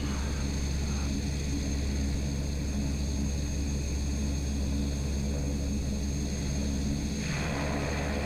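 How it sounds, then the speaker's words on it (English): Steady, loud propeller aircraft roar close by, with a broad rushing surge that builds and then shifts near the end as the engine note changes, the prop blades going into beta reverse. "the prop blades reversing to throw some thrust forward."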